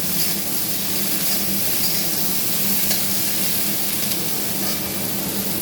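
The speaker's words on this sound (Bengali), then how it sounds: "দিয়ে দিলাম আদা বাটা, আদা বাটা নেড়ে চেড়ে নেবো" Ginger paste sizzles in a hot pan as it is stirred, a steady loud hiss of frying with faint scraping, continuous throughout with no talk.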